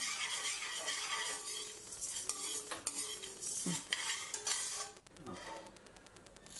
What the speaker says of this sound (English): Next, we are dry roasting the tuar dal.